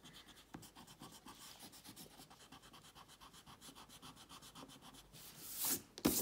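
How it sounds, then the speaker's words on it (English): A pencil eraser rubs out lines on a superhero drawing on paper, producing a quick, steady back-and-forth scratching rub heard up close and quiet, turning into louder rustling at the end. "And then we're going to rub it out, and it's going to look so clean and tidy"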